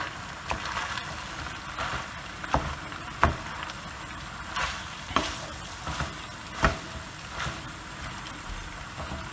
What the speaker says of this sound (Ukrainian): І сюди я додаю наше м'ясо. Теж. І теж перемішую.